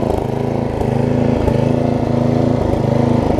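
A Murray rear-engine riding lawn mower runs steadily at close range, its engine humming with a constant droning rhythm throughout, loud and alone with no talk.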